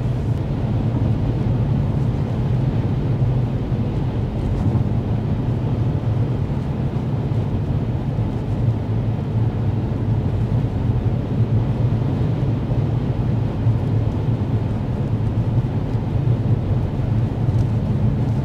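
Steady low road and wind rumble inside a 2024 Mazda 3 Select Sport cruising at 55 mph on a cold, windy day, a continuous broadband drone with no talk.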